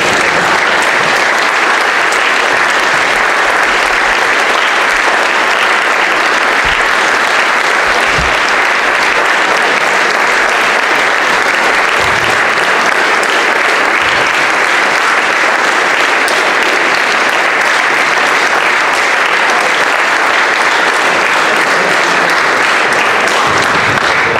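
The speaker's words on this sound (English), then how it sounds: "Gentlemen, Please rise and applaud Mr." A standing audience of cadets and guests applauds at a military academy, with loud, sustained, even clapping that continues without a break for over twenty seconds.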